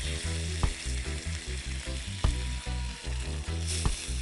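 Jamaican jerk salmon, an oily fish, frying in a pan with a steady close sizzle, broken by a few sharp clicks and clatters and some faint stirring.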